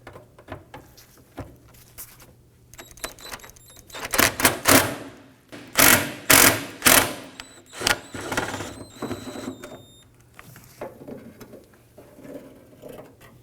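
A ratcheting socket wrench removes nuts from the vapor canister under a 2008-2011 Ford Focus 2.0L, heard as bursts of rapid clicking with short pauses, close but moderate in level, with no talk.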